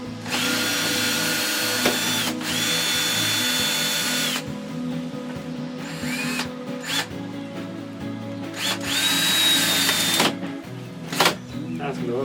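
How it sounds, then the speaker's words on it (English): A power drill drives 1¼-inch drywall screws while a tomato cage is built, whining in several long, loud, close bursts with short pauses and clicks between them. "Here I can use my longer screws. Might work a little better. Some 1¼ drywall screws."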